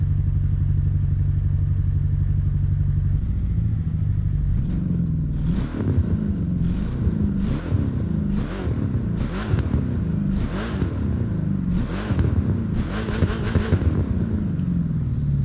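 Spyker C8 engine in the racing game The Crew 2 holds a steady drone, then revs up and down in a series of rising and falling pulls, loud and close, with no talking.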